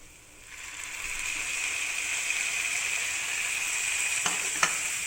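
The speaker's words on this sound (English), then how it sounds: "Now I will add the tamarind pulp into this onions." Onions cooking in a pan sizzle steadily after tamarind pulp goes in, a continuous hiss from close by with a couple of sharp clicks near the end and no talking.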